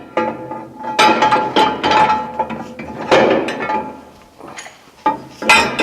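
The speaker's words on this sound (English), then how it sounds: "Reinstall the shoe into the restraint." Hold-Tite shoe being slid back into its metal restraint, a close series of sharp clanks, scrapes and clinks of steel parts knocking together in uneven bursts.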